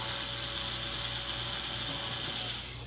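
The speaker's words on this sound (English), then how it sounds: "First we got to remove all the screws." A ratcheting screwdriver backs screws out of a TV's rear panel, giving off a steady, fast mechanical clicking that whirs continuously and then tapers off at the end, close and fairly quiet.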